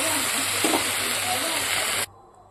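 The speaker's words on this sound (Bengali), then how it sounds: "এবং ভালো করে কষিয়ে নেব।" Curry masala for a fish curry sizzles hard in a hot pan as it is sautéed, a steady loud frying hiss that cuts off abruptly near the end, leaving near silence.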